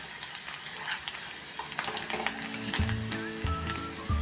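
Sliced onion sizzling and frying in an oil-filled pan over a high gas flame, a steady crackle broken now and then by louder spatters and stirring scrapes, close and alone without talk.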